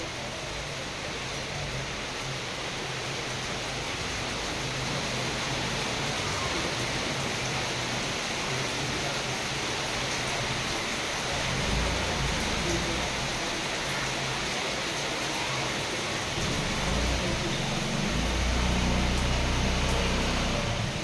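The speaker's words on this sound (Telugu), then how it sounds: "అప్పటికే మాకు వాయించేస్తుంది వాన" Heavy rain falling in a steady, broad hiss that stays dense and even throughout, with low rumbles swelling later on.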